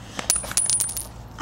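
Metal keys jingle in a pocket near a French bulldog puppy, a quick cluster of bright close clinks and rattles lasting about a second, with no talking.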